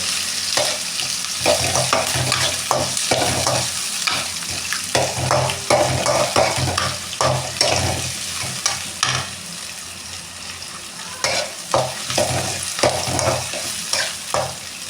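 Sliced onions fry for chicken sukka in a pan, a steady close sizzle broken by repeated scraping and clattering strokes of a spoon stirring through them, with no voices.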